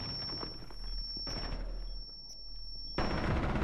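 Gunfire in the tactical shooter Rainbow Six Siege cracks in rapid bursts over a constant high electronic whine and low rumble, with a louder barrage near the end; close and dense, no talk.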